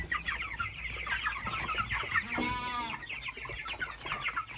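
Chickens clucking nearby in a busy farmyard, overlapping calls throughout with a short harsher squawk midway.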